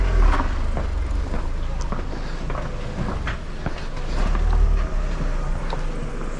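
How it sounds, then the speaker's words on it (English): A Citroen Picasso edges back and forth through narrow two-way streets, its engine a low, steady hum close by with wind buffeting and small knocks, while voices talk over it. "That is how you navigate these streets in a Citroen Picasso. You take multiple attempts to turn."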